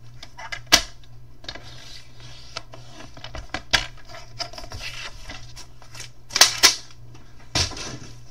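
Card paper eleven inches long being scored at the halfway mark: sharp scraping clicks and rubbing strokes of a scoring tool, close and quiet, with irregular gaps between strokes.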